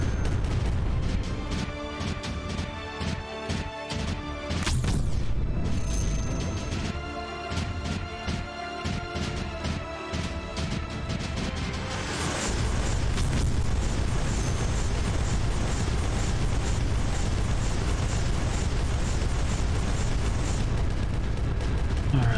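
Repeated booming cannon blasts in the game Creeper World 4, dense and loud, with a heavier continuous barrage in the second half over a busy soundtrack.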